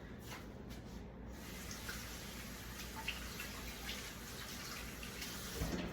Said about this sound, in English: I'm gonna rinse my hands real quick